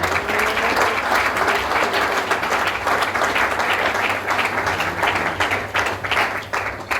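Church congregation applauding at a French-language seminar in Cameroon, a dense, loud and sustained wash of clapping from many hands that tapers slightly at the end.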